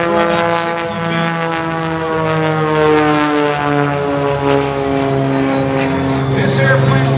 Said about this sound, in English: All the controls are reversed as the propeller turned the aircraft one way, and he was in reverse for about 60 feet.